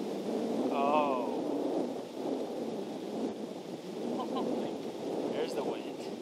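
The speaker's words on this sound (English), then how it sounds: "There's the wind." Outdoor wind on a disc golf course gusts steadily across the microphone with a rough, rumbling wash, fairly faint, with brief distant voices in the background.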